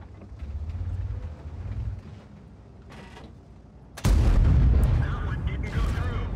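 Tank gun fire in an online tank battle video game, a sudden loud blast at about four seconds that keeps rumbling, following a stretch of engine drone and quieter game noise.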